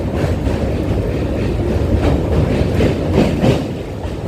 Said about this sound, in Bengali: ট্রেন চলে আসছে নিউ আলিপুর স্টেশনে